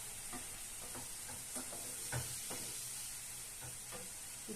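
Food roasts in a pan outdoors in a village setting, giving a faint, continuous sizzle with a hiss and small irregular pops and stirring taps throughout.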